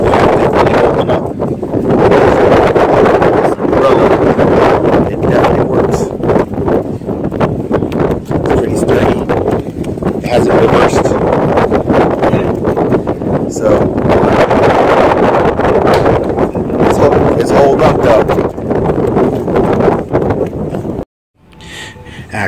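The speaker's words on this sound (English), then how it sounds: "As you can see, it's pretty windy out here." Strong wind buffets the microphone on a beach where a clamping beach-chair umbrella is set up, a loud continuous rumbling roar with gusty surges that drops out briefly near the end.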